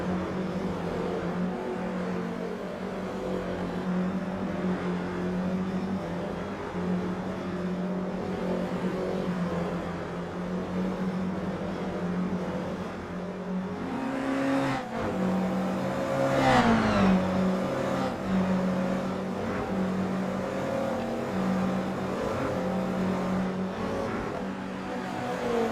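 Race cars in a racing sim game rolling into the pits for repairs and a tyre change, steady engine drone with a rising rev sweep midway, no talk.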